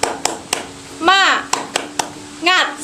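Students clap out a rhythmic spirit cheer (tepuk semangat), sharp claps sounding in a steady pattern between short bursts of children's voices.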